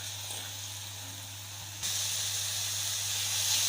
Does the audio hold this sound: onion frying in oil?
yes